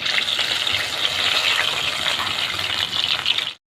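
Himsagar mango fritters frying in hot oil in a kadai produce a dense, loud, steady bubbling hiss that runs without a break and then cuts off abruptly, with no speech.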